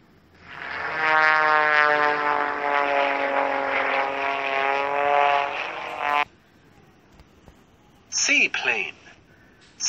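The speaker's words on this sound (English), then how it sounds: "Biplane." A biplane's propeller engine in a children's Android vehicle game hums in a steady, buzzy drone for about five seconds, then stops; a short voice follows after a pause.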